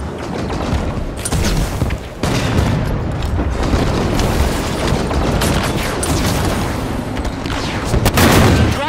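Weapons firing at an enemy core in a sci-fi shooter video game, a dense loud barrage of booms and gunfire bursts running continuously, with a brief dip near the start and a heavier burst toward the end.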